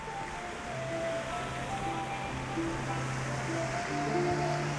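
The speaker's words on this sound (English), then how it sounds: "Anywhere I've walked on these bridges, you can hear the water rushing from this fountain." Water rushes steadily from a fountain beside footbridges at a Disney resort at night, a constant wash of splashing noise with faint tonal music from nearby light poles drifting over it.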